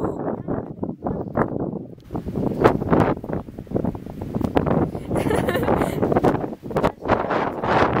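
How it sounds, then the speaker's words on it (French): Wind buffets the microphone in a steady, rumbling rush while people talk close by. "Il y a du vent, il y a trop de vent."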